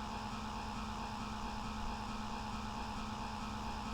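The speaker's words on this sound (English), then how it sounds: "It's a 2-stroke, so they sound like they're making double the RPMs as compared to a 4-stroke" A two-stroke car engine in the video game The Long Drive holds a steady, buzzy drone at constant revs, faint and even throughout with no talk.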